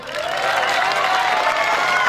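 Audience clapping at a live Haryanvi comedy show, a dense steady burst of many hands applauding close and loud for about two seconds with faint crowd noise underneath.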